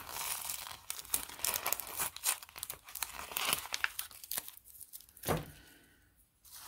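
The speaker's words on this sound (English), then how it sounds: "Let me take this tape off of here" Tape peeled off a perler bead pegboard gives loud crinkling, tearing rips in quick irregular bursts, with one stronger rip near the end. The sound is close and there is no talking.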